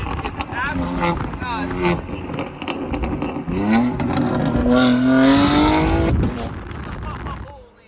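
BMW M3 G80 engine revving loudly in the Miami skyline, rising harsh roar that climbs and swells for several seconds before fading, with bursts of crackle and a person talking excitedly over it.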